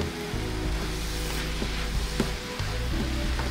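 Cabbage and carrots stir-fry in a pan with a steady, even sizzle that holds fairly quietly throughout, with faint stirring scrapes and no talking.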